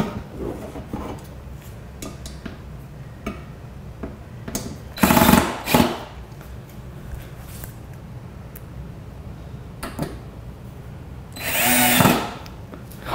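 A power drill whirs in two short close bursts between clicks and handling noises while assembling a cheap rolling coffee table, with a quiet room in the background.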